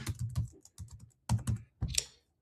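Close, crisp keystrokes on a computer keyboard entering variable names for a simple phone stand design, clustered in quick irregular bursts with short pauses between groups.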